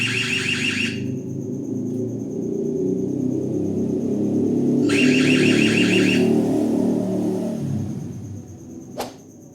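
An EZVIZ C3TN outdoor CCTV camera sounds its alarm: two loud, rapid electronic siren bursts, one at the start and another about four seconds later, over a continuous low rumbling background.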